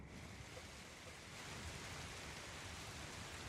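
Steady rain ambience of even, soft, continuous patter with no breaks, playing quietly in the background of a tabletop role-playing session.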